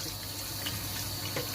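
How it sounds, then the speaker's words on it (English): Tap water runs steadily into a sink while mutton is rinsed for a Jamaican curry, a constant close hiss with no talking. "I'm just washing the meat"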